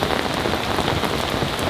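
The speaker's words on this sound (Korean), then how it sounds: "좌우로 이제 바람이 불면서 이제 많은 양의 비가 내리다 보니까" Heavy, wind-driven rain pours onto a wing tarp at a campsite, a dense, loud, continuous patter close overhead with no gaps.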